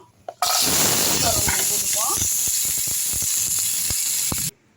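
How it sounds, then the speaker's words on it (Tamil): A small amount of oil hits a hot kadai and hisses continuously, a loud close sizzle with crackling pops that begins abruptly and cuts off near the end. "இந்த பக்கம் கடாயில் கொஞ்சமாக எண்ணெய் ஊற்றிப்போம்"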